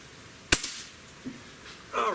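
A Barra 1866 Gen-2 Cowboy Series air rifle fires a single sharp, close crack, followed by a short faint rattle and then a brief airy hiss or voice at the end.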